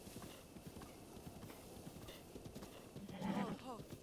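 Rapid clip-clop of horse hooves in Zelda: Breath of the Wild, steady and quiet under game music, with a short horse whinny rising near the end; someone talks over it.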